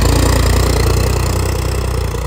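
A John Deere 5310 tractor, upgraded with a 25 hp power boost, runs with a steady, loud, low diesel throb and a regular mechanical rhythm that holds constant throughout, with no speech over it.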